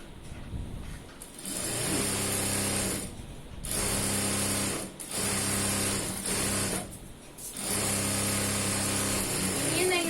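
A sewing machine whirs through the sleeve of a frock nighty in long steady runs broken by brief pauses, a close mechanical hum with clicking, and someone talks over it.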